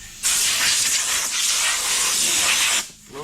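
Compressed air blowing off sanded trim on a 1948 Chevy truck before painting: a steady, loud, close hiss that starts abruptly, holds for about two and a half seconds, then cuts off.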